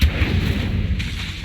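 Incendio fire spell cast in the video game Hogwarts Legacy, a loud, booming burst of fiery impact that rumbles through the clip with a brief magical chime at the end.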